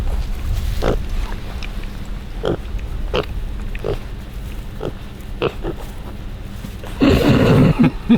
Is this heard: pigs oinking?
yes